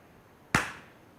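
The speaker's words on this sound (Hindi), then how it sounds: "सिंपल ताली।" A single sharp, close hand clap marking the beat in Kathak dance practice, one crisp slap with a short ringing decay in a quiet room.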